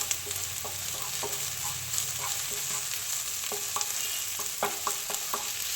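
Okra kichadi mixture frying in a pan, a steady sizzle under frequent light spatula taps and scrapes, close and even throughout, no voices.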